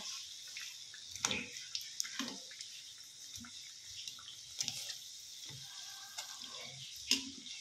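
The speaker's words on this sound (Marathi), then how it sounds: "नंतर मग आपल्याला मीडियम गॅसवरती शेवटपर्यंत ते फ्राय करून घ्यायचे आहेत" Bread patties fry in oil over medium heat, with a soft, continuous sizzle and bubbling and occasional light utensil taps and clinks, fairly quiet and close.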